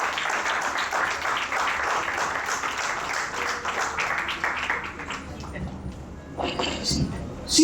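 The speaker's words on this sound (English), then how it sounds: "Have a big applause to all." A conference audience claps and applauds continuously under the start of the clip, thinning out toward the end as a voice begins speaking.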